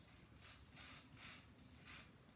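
Makeup setting spray is misted onto a forehead in three or four short, close hissing bursts with soft pauses between them.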